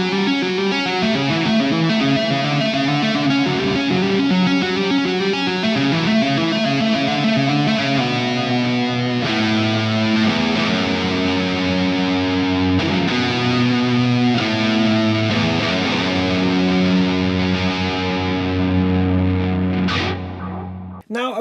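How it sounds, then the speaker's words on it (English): Lead lines on a Mitch 6 electric guitar using the neck pickup, played through the lead 2 channel of a Powerball amp with wet effects, sound loud, distorted and drenched in echo and chorus, sustained throughout. "switch over to the lead 2 channel of the Powerball, flick over to the neck pickup of this Mitch 6 and engage some wet effects for some lead tones"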